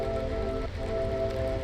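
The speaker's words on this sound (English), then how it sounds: "It is pouring out here though." Heavy rain pouring at a hidden pond during a bass fishing outing, a dense steady patter of drops on water and surfaces, fairly faint and continuous, with a faint constant tone running underneath.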